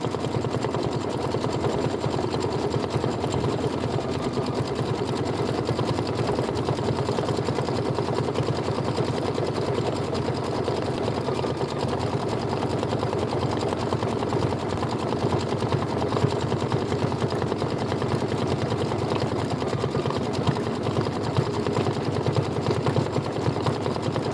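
A sewing machine stitches flower shapes on a small quilt block, its steady motor hum and rapid needle chatter running loud and continuous throughout with no pauses.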